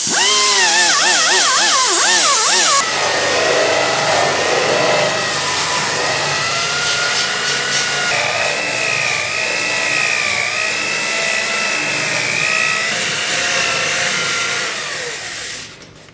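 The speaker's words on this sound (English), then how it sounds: "So I'm using a 2-inch roll lock with a 3-inch roll lock disc so it can flex and get down in all these curves." Sanding bluing and undercoating off a metal part of a GTO restomod with a 3-inch roll lock disc on a 2-inch holder, a loud continuous power-tool whine that wavers in pitch as the disc bites, then winds down at the end.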